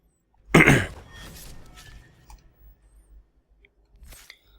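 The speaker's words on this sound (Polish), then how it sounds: "Wybaczcie, że ja tak ciągle odchrząkam, ale nadal jestem chory." Throat clearing from a man who is ill, one sharp loud burst followed by softer rasping and a faint second clear near the end, close and alone.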